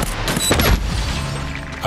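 Fireworks in the video game Deathloop crackle and boom in a dense, loud burst of pops and thumps, then settle into a rumbling, mechanical-sounding fade with no talk.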